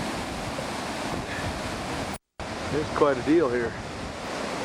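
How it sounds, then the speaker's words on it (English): Cold wind rushes and buffets steadily outdoors near a waterfall, mixing with constant roaring water noise, broken by one brief dropout, while someone speaks briefly over it. "sun's out, but it's cold and windy here today"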